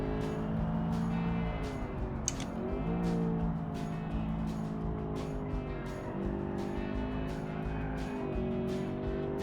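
A 1970s production supercar drives around a track in the racing game Automation, its engine droning steadily at moderate volume with pitch dips between gears, run gently with no talking over it.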